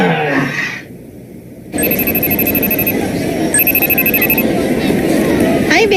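A telephone rings with a loud electronic trill in two repeated bursts, close by, while people talk over it in a busy room.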